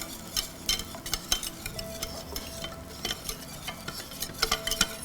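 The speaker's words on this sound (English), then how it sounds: "Give this a little whisk." Flour being whisked into melted butter for a roux in a pot, a whisk scraping and clicking in repeated strokes over a low, steady cooking hiss, close and fairly quiet.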